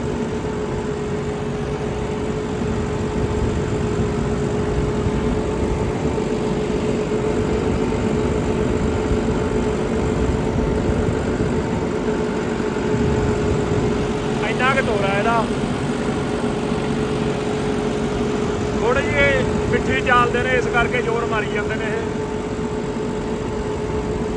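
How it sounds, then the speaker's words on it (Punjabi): A tractor engine idles with a steady low drone throughout, while a person talks briefly over it near the middle and end. "ਮੈਂ ਪਹਿਲੀ ਵਾਰ ਟਰੈਕਟਰ ਚਲਾਉਣਾ"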